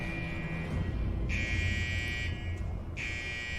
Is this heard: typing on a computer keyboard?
no